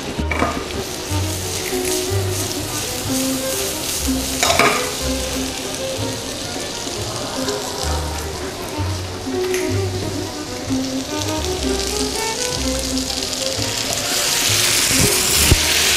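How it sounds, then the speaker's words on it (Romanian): Breadcrumbs stirred into melted butter in a frying pan, a continuous crackling sizzle with scraping stirring strokes, close and steady, growing brighter toward the end. "când untul s-a topit și începe să-și lase aroma, amestecăm pesmet."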